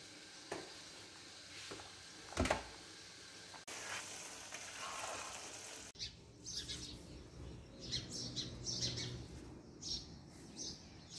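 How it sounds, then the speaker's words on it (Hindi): Birds chirping on an Eid morning, scattered faint tweets and calls coming through quiet, uneven background noise, with a brief louder thump partway through. "चिड़ियाँ चहचहा रही हैं"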